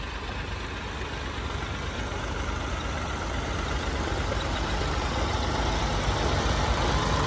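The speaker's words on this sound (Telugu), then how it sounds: "4 ట్రాక్టర్స్ అయితే రన్ అవుతున్నాయి." Several tractor-driven dewatering pump motors, one of them heavy, run at a construction site, making a steady, loud, broadband engine drone that holds level throughout without pause or talk.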